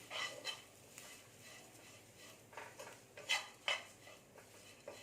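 Flattened rice (aval) is roasted in ghee over a low flame, with soft, repeated scraping strokes of a spoon against the pan and a faint sizzle underneath. The whole scene is quiet and close, with no talking.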